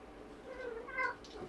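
A cat meows indoors, a short, fairly faint rising-and-falling cry followed by a second brief meow, heard alone in a quiet room.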